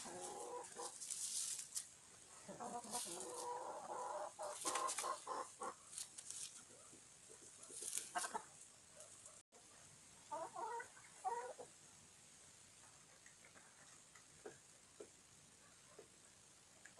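Young roosters and hens clucking and squawking in a backyard flock, a series of close, sharp calls and chatter with brief pauses between bursts.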